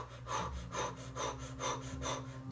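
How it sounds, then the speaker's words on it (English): Rhythmic breath of fire in Kundalini yoga: about six quick, even in-and-out breaths through the nose in a steady pulse, close and fairly quiet, with no talking. "So it's kind of like a breath of fire, but we got the even."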